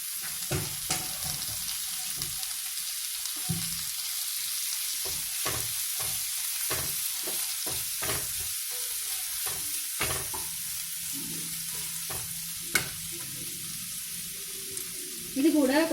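Tomatoes sizzle and fry in a pan during a prawn fry, with steady crackling broken by repeated scrapes and stirs of a utensil and one sharp clatter near the end, all close and without talk.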